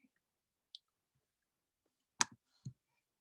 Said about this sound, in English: Click on the slide